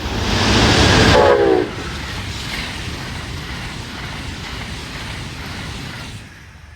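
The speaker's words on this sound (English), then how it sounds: "we're greeted with one more Northeast Regional, westbound, led by ACS 64, number 606" A westbound Amtrak Northeast Regional led by ACS-64 electric locomotive number 636's sister 606 rushes past on the Northeast Corridor, loud and close at first with a brief horn-like tone, then a long steady rumble of cars that fades out.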